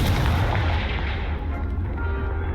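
A Confringo fire spell blast in Hogwarts Legacy, a loud booming explosion that fills the opening instant and then trails off into a long rumbling roar with fading crackle.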